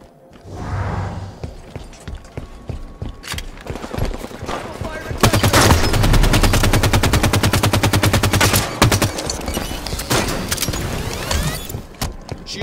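Rapid automatic gunfire in the Halo 5 video game, sustained bursts with dense rattling shots, growing louder and more continuous midway, mixed with game sound effects and occasional thuds.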